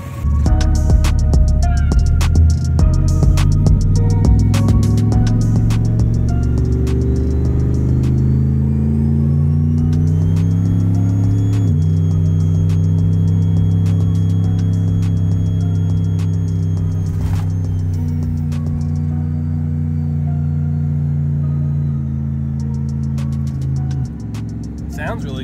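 An LSX turbo 2500 truck engine out on a drive, a loud steady rumble with rising and falling engine tones as it accelerates and shifts, heard from inside over a continuous low drone.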